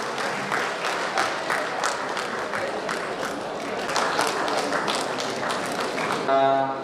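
An audience at a polytechnic seminar in North Sumatra breaks into applause, a dense patter of many hands that holds steady and swells slightly near the end.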